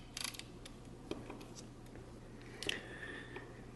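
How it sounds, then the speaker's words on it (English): An Olympus OM-System F.Zuiko Auto-S 50mm f1.8 lens diaphragm snaps shut as the stop-down lever is pressed. A few faint, sharp mechanical clicks come close by in a quiet room, one with a brief metallic ring. "when I hit the stop down lever, the diaphragm or the aperture closes up"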